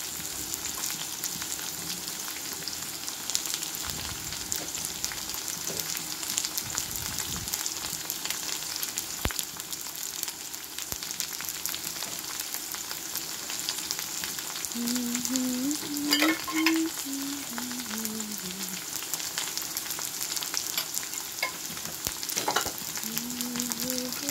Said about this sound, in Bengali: টমেটোটা দিয়ে দিই, আলুর সঙ্গে নেড়ে করে নেবো, টমেটোটা গলে যাবে।